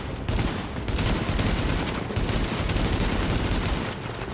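Sustained enemy gunfire in The Division, a dense continuous barrage of rapid shots with brief dips, loud and steady for several seconds without talk.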